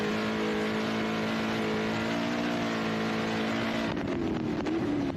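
A 7-litre race car engine roars steadily and loudly at a Big Desert 480 off-road race, with a slight shift in tone near the end as it passes.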